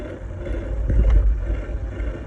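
A blower motor in a 1992-1996 Ford truck, suffering a bad motor connection, runs with a steady low hum and rumble that swells briefly in the middle. It is close and moderately loud, with no talking.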